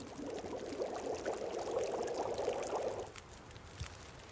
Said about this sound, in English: Boil some water.